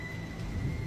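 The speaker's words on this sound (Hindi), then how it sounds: "तभी आसमान में जोर जोर से बादल गरज उठे और बारिश होने लगती है।" Cartoon thunder rumbles low and steady beneath a constant wash of rain, with no talk over it in this short stretch of an animated storm scene.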